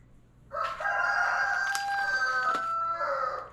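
A rooster crows once, loud and close, a long drawn-out call over a quiet background hum.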